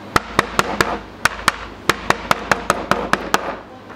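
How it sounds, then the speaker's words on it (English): A chokka hammer pounds fishing bait to soften it, delivering about fifteen sharp, close knocks in an uneven rhythm over a quiet background. "all I want to do is take it with the chokka hammer"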